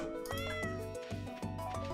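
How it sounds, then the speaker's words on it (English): A cat meows in the Stardew Valley farming video game, a short high-pitched in-game meow sounding over steady background game music with a rhythmic beat, no talking. "I'll go find my sleepy cat."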